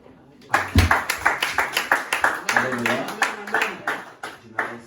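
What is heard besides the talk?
clapping hands in church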